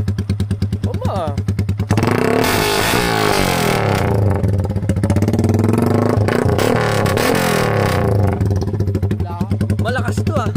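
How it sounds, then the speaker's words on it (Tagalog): Stock-engine motorcycle fitted with an NLK aftermarket exhaust pipe, revved hard in a loud continuous roar with rising and falling throttle blips, close by, with people talking and shouting over it. "Walang hamon, lakas na itong pipe na to. NLK lang yan. Stock pa, engine."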